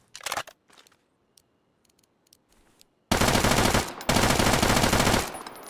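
Suppressed gunfire in the video game Deadside, a few faint scattered clicks and shots at first, then a loud sustained burst of rapid automatic fire lasting a couple of seconds, a short gap, and another long burst.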